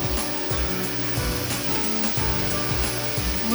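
Crushed tomatoes sizzle steadily in a pot on an induction cooktop, giving a continuous, fairly loud frying hiss with some scraping and stirring noises on top. Nobody speaks.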